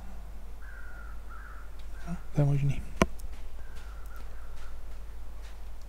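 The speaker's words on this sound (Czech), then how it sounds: "Ale nějaký ptáci někam letějí" Crows caw in a snowy wilderness in the survival game The Long Dark, a few short harsh calls at a distance, heard under a man's speech and steady wind.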